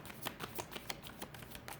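Tarot cards being shuffled in quick, papery riffling bursts, close and fairly soft, with no voices.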